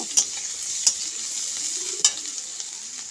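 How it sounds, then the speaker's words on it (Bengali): Potatoes are stir-fried with garlic, tomato and spices in a pan, giving a steady close sizzle with a few sharp scrapes and stirs of the spatula at irregular intervals. "আর টমেটো দিয়ে ভালো করে এবার আলুটাকে কষিয়ে নেব"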